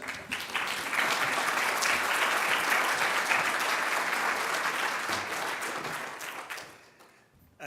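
A large audience at a literature symposium opening session gives a sustained round of dense applause that swells, holds steady, then fades out near the end.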